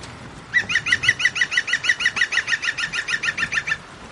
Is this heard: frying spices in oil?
no